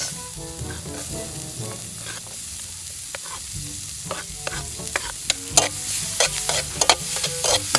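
Onions sautéing in a pan give a steady sizzle and fry hiss, with frequent stirring scrapes and clicks from a utensil growing sharper and more frequent toward the end, close and without talk.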